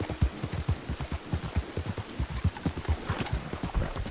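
Horse hooves in the video game Red Dead Online, a quick, steady clip-clop of a trotting horse on firm ground, close and moderately loud, with no voices.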